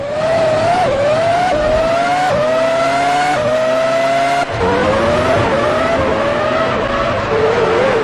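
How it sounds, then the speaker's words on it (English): Formula One race cars howl around the Monaco street circuit in the PlayStation 2 game Formula One 2003, loud high-revving engines rising and dropping through gear changes as several cars pass in close succession. "Alonso is getting ready to try and pass Fisichella."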